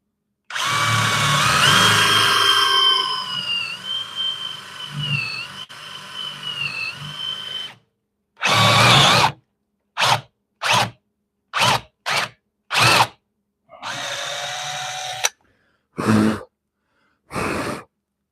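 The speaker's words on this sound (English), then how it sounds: "I'm just drilling holes right now." A power drill boring holes in a candy dispenser project whines in one long run, then fires in a series of short separate bursts with silent gaps between them, loud and close.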